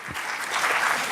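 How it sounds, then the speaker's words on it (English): An audience at an international conference's opening session applauds as a convener is welcomed, a brief, steady wash of many hands clapping at moderate distance. "May we give her a huge round of applause."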